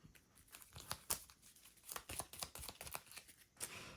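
A deck of cards is shuffled during a solo tabletop board game session, quiet crisp riffling and snapping bursts in an irregular rhythm, close but soft, with no talking.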